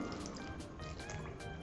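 Water poured into a blender jar of herbs, lime juice, chilli, ginger, garlic and peanuts for green chutney, a steady close trickling splash running without pause for a moment with no talk.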